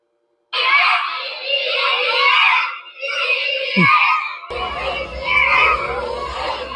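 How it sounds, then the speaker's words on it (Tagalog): Loud, continuous shouting and screaming from a group of children, close and chaotic, with a brief thump in the middle and no pauses. "Yung sigaw po ng mga bata, mga musmus po na bata"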